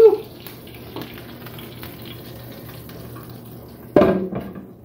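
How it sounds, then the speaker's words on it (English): Cleaning out a crumbly pan in a home kitchen, with faint scraping and metallic clatter, a soft knock near the start and a louder clank of cookware toward the end. "I'm going to try to clean out this pan a bit, because it's awfully crumbly"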